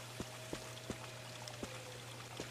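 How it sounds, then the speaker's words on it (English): A waterfall in the Resident Evil video game rushes as a faint, steady wash of pouring water, with small periodic clicks and a low hum beneath it. "the waterfall"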